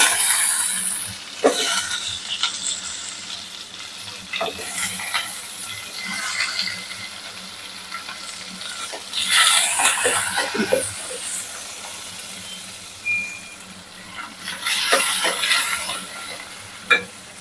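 Onions and curry leaves sizzle in hot oil while a spoon stirs and scrapes the pan in irregular bursts, moderately close, with brief talking.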